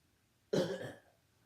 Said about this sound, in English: Sorry to cough there, everyone